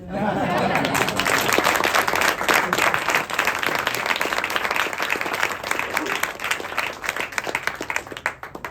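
A symposium audience breaks into loud, sustained applause of many hands clapping, dense and close, holding steady for several seconds before thinning slightly toward the end.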